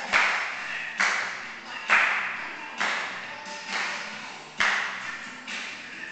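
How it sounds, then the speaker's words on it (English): Hand claps at a dance at River Mill Village land roughly once per second, seven in all, each a sharp slap trailed by a ringing, reverberant decay, with no talking. "Clap."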